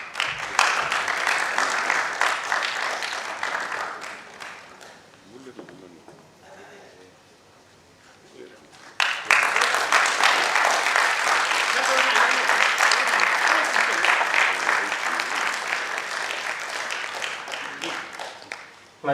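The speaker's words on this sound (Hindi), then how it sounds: "जोरदार तालियां प्लीज" An audience at a stage event breaks into dense, loud applause that fades and nearly stops midway, then surges back suddenly and continues strongly to the end.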